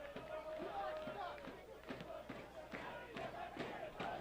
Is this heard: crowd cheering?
yes